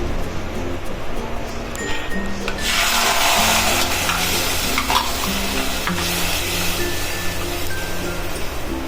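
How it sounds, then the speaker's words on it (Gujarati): Milk poured into freshly roasted vermicelli in a pan for mango seviyan, with a steady sizzle and scraping stir that swells into a broad rushing hiss midway, then settles back into continuous stirring. "તો અહીંયા આપણે નાખવાનું છે દૂધ"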